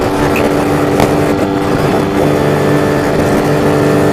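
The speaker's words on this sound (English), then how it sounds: "I have to get quite high in the revs to keep up" A TS1 motorcycle engine holds steady high revs while riding, a loud continuous buzzing drone with strong harmonic hum running the whole time, no voices.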